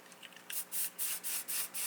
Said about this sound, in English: you want to make sure you spray it with just a little bit of hairspray